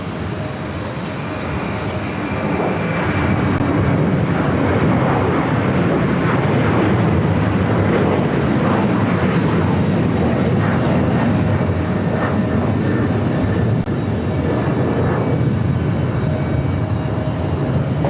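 A passenger jet in Brooklyn Nets livery takes off on runway 4 Left at JFK airport, its engines building to a loud, steady roar that holds for many seconds with no talk over it.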